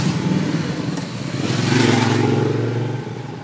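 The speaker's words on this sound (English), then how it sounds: "two motorbikes go past." Two motorbikes pass on a road during a walk, their engines rising to a loud peak and then fading as they go by, a steady mid-pitched drone under a broad rush of air.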